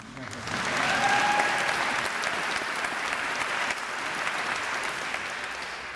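A crowd at a college convocation applauds loudly and steadily, many hands clapping in a dense wash that holds for several seconds before easing slightly.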